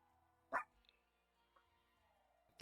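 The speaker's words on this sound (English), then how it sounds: "you can hear my dogs making noises there." Dogs making noises in a quiet home, one sharp bark followed by a few faint yips and whimpers spaced apart, heard somewhat distant against soft background hum.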